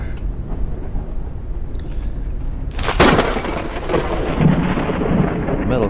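A thunderclap and lightning strike in the video game Forever Skies bursts out over steady heavy rain, loud and close, followed by a long rolling rumble.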